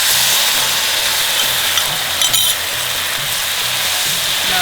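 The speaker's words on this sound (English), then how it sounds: "now I'm going to add the stock that I made from the macaroni water and the chicken cube" Chicken stock made from macaroni water and a stock cube hits a hot frying pan for an Anglo-Indian mac and cheese, giving a steady, loud broadband sizzle and hiss that runs the whole time with no talk.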